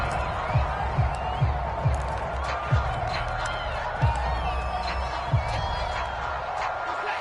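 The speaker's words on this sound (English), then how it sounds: "And this crowd has certainly liked what they've seen." Stadium crowd noise from an American football video game, a steady broad roar of cheering with periodic louder swells, playing under continuous commentary from announcers.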